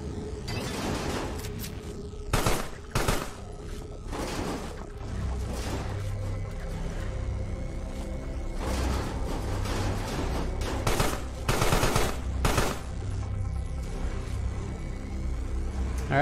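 Gunfire from enemy soldiers in the creature game Carrion comes as a series of sharp bursts spread through the stretch, rattling over a steady rumbling game background with low mechanical noise.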